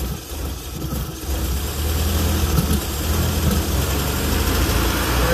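Pinzgauer engine idles roughly after carburetor cleaning, a low, continuous rumbling chug with a slight uneven pulse, steady and close, with no talking.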